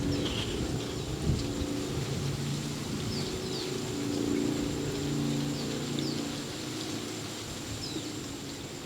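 Birds, including dove-like cooing, call outdoors over a steady background wash, soft and moderately distant, with repeated low coos and faint higher chirps and no speech.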